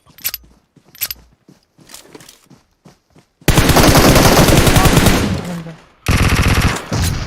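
Rapid automatic gunfire from a shooting video game, loud and close, with scattered single shots and mechanical clicks early on, then a sustained burst followed by another short volley, no talk over it.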